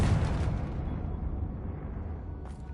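A booming spell blast from the Hogwarts Legacy video game, a loud low rumbling burst that rolls on and slowly fades over a few seconds, with a brief bright crackle near the end.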